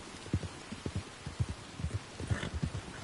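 Horse hooves clip-clop in a steady rhythm while riding across open country in heavy rain in the video game Red Dead Redemption 2, fairly quiet with soft background noise.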